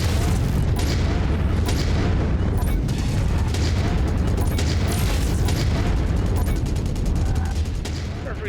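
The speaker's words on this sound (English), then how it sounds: "Got an ammo explosion." An ammunition explosion tears apart a mech in MechWarrior 5, a loud, sustained roar of booming blasts and crackling weapons fire filling the whole stretch without pause.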